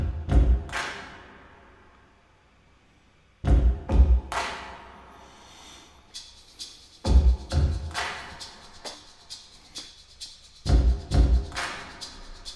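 Choir rehearsal body percussion in a stamp, stamp, clap pattern, repeating four times as clustered thuds and sharp claps. Each group is separated by decaying room reverb, fairly distant, with nothing else playing.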